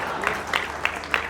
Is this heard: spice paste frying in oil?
no